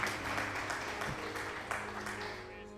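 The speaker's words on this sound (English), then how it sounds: "Thank you for the applause." A crowd applauds as the credits roll at the end of a PS5 role-playing game, a dense, steady patter of clapping that runs throughout, with speech faintly present over it.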